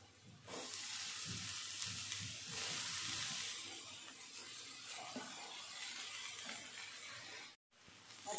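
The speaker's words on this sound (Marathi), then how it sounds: "आता भाजी पण परतून घेऊ छान।" Fenugreek leaves and dal are stirred and sautéed in a pan, giving a steady soft sizzle with faint scraping. It runs continuously and briefly cuts out near the end.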